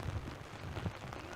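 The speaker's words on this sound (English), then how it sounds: "Never mind the rain." Rain falls steadily on an outdoor Gaelic football pitch at DCU during a Higher Education Trench Cup final, a low, broad patter that continues without a break through the short stretch.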